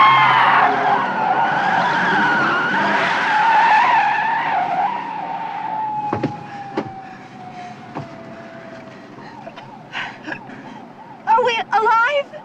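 Car tires screech in a long skid near a big truck, a sustained squeal sweeping down over about eight seconds, followed by scattered sharp knocks and bursts as it ends; voices come briefly near the close.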